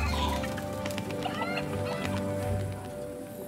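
Chickens cluck and squawk at a busy medieval market stall, close and fairly loud over a bustle of background noise and faint hum, with no talk during the sounds.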